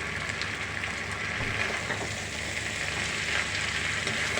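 Chowmein is tossed and stirred with a spatula in a hot pan, giving a steady, close, loud sizzle with faint scraping and clatter throughout.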